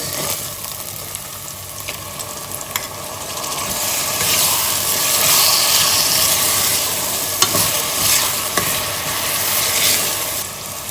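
Tomatoes dropped into frying ginger and garlic for a Goan red masala beef curry, a loud close sizzle with stirring scrapes and occasional sharp pops, swelling midway and staying steady without speech.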